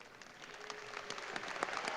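Audience applause at a high school commencement ceremony as graduates enlisting in the armed forces stand to be recognized, steady clapping from a large crowd in a hall that swells slightly toward the end.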